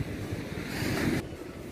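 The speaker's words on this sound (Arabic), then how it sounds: "البحر هايج بزاف" Rough sea waves roaring on a windy coast, a broad continuous wash of surf with heavy wind buffeting the microphone, loud and close with no voices.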